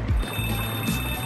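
A telephone rings once in short electronic tones, loud and close, with no talk over it.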